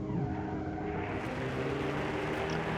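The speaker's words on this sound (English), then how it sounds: "It does sound pretty good though, thanks to the flat 6." A flat-six engine car in the BeamNG.drive racing game, its sustained engine tone droning steadily at moderate volume with a faint tire squeal, no voices over it.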